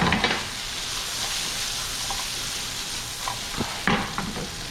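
Filet steaks sizzle steadily on a hot grill after being turned onto a fresh spot, a continuous close frying hiss with a few soft clicks and scrapes of tools.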